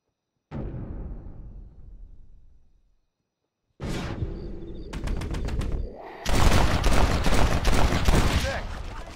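Gunfire during a night duel in the Red Dead Redemption video game: one sharp shot rings out and decays, then after a pause comes a burst of rapid shots and finally loud, dense sustained firing.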